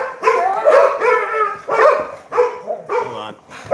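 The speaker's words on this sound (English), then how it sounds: "We're dealing with the dogs." Several dogs bark and yip repeatedly and close by, loud and overlapping, with some whimpering, indoors in a home where a Sabbath scripture reading is going on.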